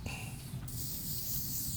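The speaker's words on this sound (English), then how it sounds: "But you take this one and spray it on that black coat" A short hiss of hair sheen sprayed onto a Doberman's black coat, a soft airy burst that starts partway through and continues steadily to the end.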